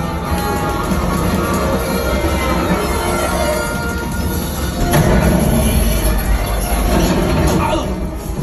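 A train rumbles steadily and loudly through the Smuggler's Run ride simulation, with the roar swelling near the middle and background voices and crowd noise mixed in.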